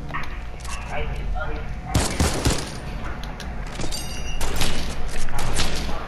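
Gunfire in the video game Fortnite, with a heavy shotgun and a sniper nearby, comes as a dense crackling volley with sharp bursts around the two-second mark, loud and continuous under excited talk.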